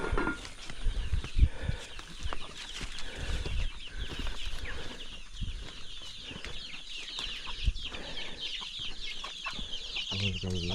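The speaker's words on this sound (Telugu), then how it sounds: "కోళ్ళు అయితే చాలా ఉన్నాయి." Chickens cluck and scratch around a small tin-roofed tribal house on a hillside near a cashew orchard, with intermittent wing flaps and rustling at close range, steady and moderately loud throughout.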